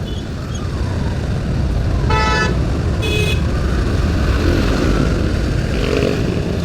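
Rush-hour traffic on Commonwealth Avenue rumbles loudly and steadily, with engines and motorcycles close by, while two short car-horn toots sound in quick succession partway through and fainter honks come later.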